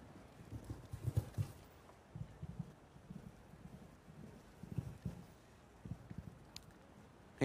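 A show-jumping horse's hooves clip-clop at a steady, regular cadence over an outdoor course, moderately distant and soft, with light wind rustle and no talk.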